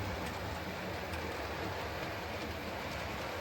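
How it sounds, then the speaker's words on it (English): A continuous rumbling rush of a long model train rolling along its track, steady and close, with faint rhythmic clicks over broadband noise. "So here we go with another train, another large one."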